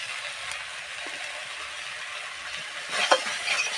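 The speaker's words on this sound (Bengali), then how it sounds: "এইভাবে ভালো করে নেড়ে চেড়ে পুরো যখন শুকিয়ে যাবে তারপরে নামিয়ে ফেলবো" Chickpeas with turmeric powder stirred in a pan, a soft continuous sizzle with faint scraping strokes that grow louder and busier toward the end.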